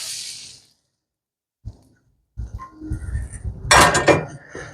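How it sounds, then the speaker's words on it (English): Cast iron-seared steak being plated with butter, a few clinks of dishes and cutlery close by, then a louder burst of clattering plates near the end. "Plate our steak really quick, and we're not going to waste any of this butter."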